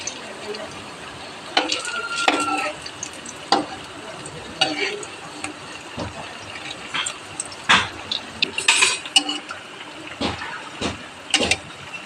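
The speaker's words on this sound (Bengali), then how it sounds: "আমি উল্টে দিচ্ছি আর এটা খুব সুন্দর করে আমি লাল লাল করেই ভেজে নেব" Malpua fries in a pan as a constant low sizzle, broken by repeated spatula scrapes and clinks while the pieces are turned, close and fairly loud, with no talking.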